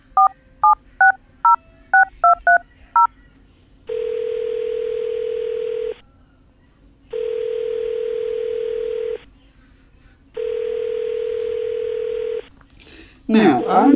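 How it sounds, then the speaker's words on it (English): An outgoing call from a phone app to an Android handset: a quick series of dialing tones, then three long, evenly spaced ringback tones with silent gaps, heard clearly and alone. "I'm literally using an app right here, so this is going to call to the Android."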